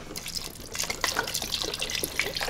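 Liquid stock pouring from a Tetra Pak carton while making leek and potato soup, glugging and splashing close by in irregular gurgles for a couple of seconds.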